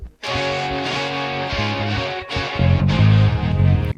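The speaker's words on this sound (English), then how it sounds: "And now you're going to hear guitars." Rock guitar tracks from a song, a dense, steady, distorted chordal wall that plays continuously, with a short dip before heavier low chords take over in the second half.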